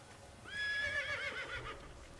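A horse in Assassin's Creed, in Damascus, gives a single loud, shrill whinny that rises and trembles before fading, with faint hoof sounds beneath.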